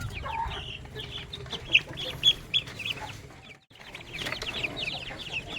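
White Leghorn crossed with Rhode Island Red chickens clucking on a farm, a flock giving repeated short clucks and squawks, some close and loud, with a brief pause midway.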